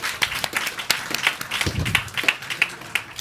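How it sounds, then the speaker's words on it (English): Audience clapping at a panel discussion on restaurants, farms and regional food systems, a dense patter of many hands continuing steadily throughout at moderate loudness with no talk over it. "Give them a round of applause"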